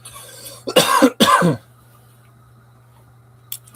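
Two quick, close coughs in a row, followed by quiet and a faint noise near the end.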